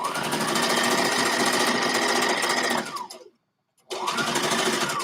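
Industrial sewing machine running fast stitches through a fabric band, a loud steady mechanical whir that cuts off near the end, pauses in silence for about a second, then starts again.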